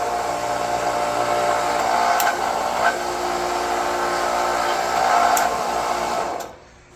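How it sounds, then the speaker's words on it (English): A hydraulic torque pump runs steadily through a torque cycle on a flange with demo studs, a continuous motor whine with a few brief clicks before it cuts off near the end. "Turn the pump on. And we'll go through this cycle until we get to the proper torque."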